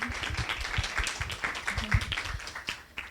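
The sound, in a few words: audience applause for the speakers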